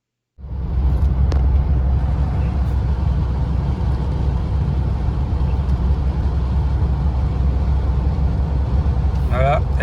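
A Mercedes SL280 cruises onto the autobahn, a steady, loud low engine and road rumble filling the cabin without a break after a sudden start.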